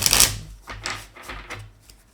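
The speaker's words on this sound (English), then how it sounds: "Let me get one quick shuffle." Tarot cards get a quick shuffle, a dense riffling burst at the start followed by several softer, shorter flurries of card slaps, close and alone with no voices.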